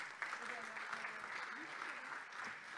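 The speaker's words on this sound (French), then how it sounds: "Sous vos applaudissements, bien entendu." Steady applause from an audience at a startup financing barcamp session, a dense, even wash of clapping that continues throughout at moderate volume, with faint voices mixed in.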